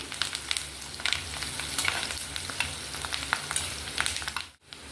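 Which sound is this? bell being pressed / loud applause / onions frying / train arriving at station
onions frying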